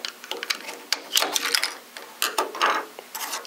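Red plastic piece being pried off a Eurotherm temperature controller with a screwdriver, producing close, quiet clicks, scrapes and small mechanical rattles in irregular clusters, with no talking.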